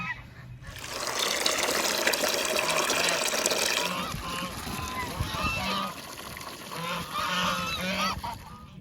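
Geese honk loudly and repeatedly near freshly filled pools during laying season, a busy chorus of overlapping calls with splashing water underneath.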